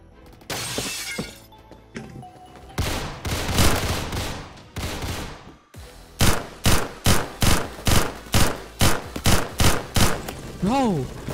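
Gunfire from the G11K2 rifle in Phantom Forces on Roblox, loud rapid bursts of sharp shots followed by a steady rhythmic string of about a dozen evenly spaced cracks, with a voice briefly heard.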